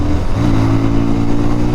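A motorcycle, either a Yamaha R15 or a Bajaj Pulsar 220, is pushed at full throttle, giving a loud, close, continuous engine roar that holds steady through the short stretch.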